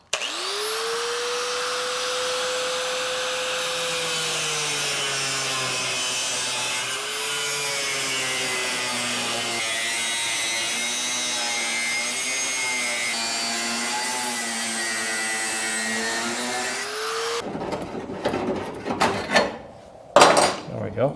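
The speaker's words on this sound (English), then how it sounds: "let me grab the cutoff wheel, see if we can get this thing out of here" A cutoff wheel grinds into the custom hood scoop of a GTO restomod, a loud, sustained high-pitched whine that shifts in pitch as it bites into the metal for about seventeen seconds, then stops, leaving clanks and handling noises.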